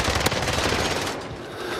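Rapid automatic gunfire from a video game firefight, loud and dense, with a sharp single shot standing out early before the bursts ease slightly toward the end.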